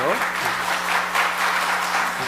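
At a Korean church ordination service, the congregation breaks into loud, dense applause, continuous and close, over a steady held keyboard tone.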